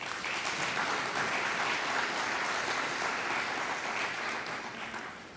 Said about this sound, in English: I think everyone should give them another round of applause